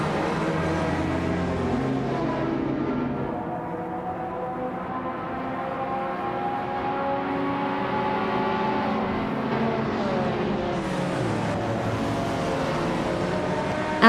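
A classic 1986 Ferrari 308 GTS howls through a racing video game, its engine tone steady and loud throughout with shifting pitch as revs rise and fall, other cars blending in, no voices.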